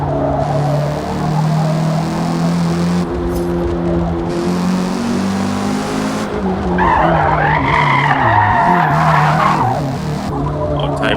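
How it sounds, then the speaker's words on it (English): A car drifting in the Xbox racing game Forza Motorsport, tires skidding and squealing loudly over a droning engine, with a sharper, higher screech toward the end. "Maybe I can try to drift on this apex."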